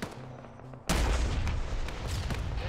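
A sudden loud rocket explosion strikes a vehicle in a military video game after a quiet low hum, followed by ringing debris and scattered gunfire crackling on.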